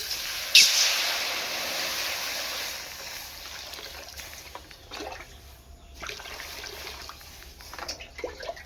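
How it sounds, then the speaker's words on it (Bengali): Water is poured into a wok, a brief splash at first followed by a soft trickling and bubbling that fades over several seconds. "বন্ধুরা দেখুন কড়াইয়ে জল দিয়ে দিলাম"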